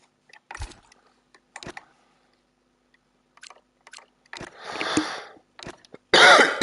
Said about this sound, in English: I'm coughing a bit here and there, to be honest.